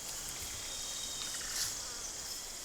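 Wild bees around hives high in forest treetops make a steady, high-pitched buzzing drone that hangs evenly in the background throughout, with no voices present.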